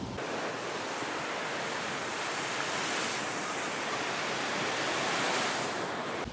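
Ocean surf washing onto a beach, a steady broadband roar that swells slightly without pause, close and fairly loud, with wind and no voices.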